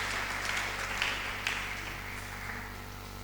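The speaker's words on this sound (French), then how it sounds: "Est-ce qu'on peut applaudir la parole du Seigneur?" A congregation applauds during a French-language church sermon, a broad wash of clapping at moderate volume with a low steady hum underneath.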